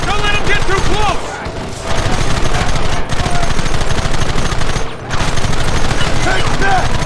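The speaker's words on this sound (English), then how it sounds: "Gun them down! Don't let them get too close!" Rapid gunfire rattles through a shootout in the western game Red Dead Redemption, loud dense bursts of automatic shots with brief pauses between volleys, and voices shout amid the firing.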